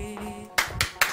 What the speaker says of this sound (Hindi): बहुत सही तालियां।